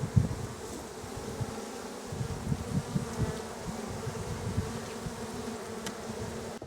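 Honeybees droning around an open Flow Hive during an inspection, a steady close buzzing hum that holds for the whole stretch with slight swells as bees pass near.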